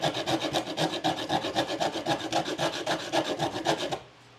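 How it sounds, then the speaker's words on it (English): Edge of a soup can filed back and forth against a cheese grater, a steady rhythmic rasping of roughly two strokes per second, loud and close, then stopping abruptly near the end. "just running it against my cheese grater, and that is working beautifully"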